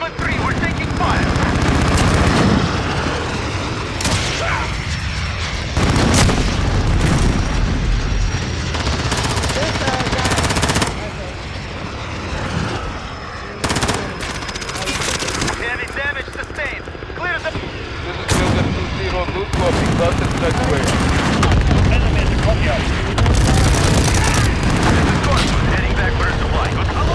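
Video game combat with loud, near gunfire bursts and heavy booming explosions that go on almost nonstop, with chatter mixed in.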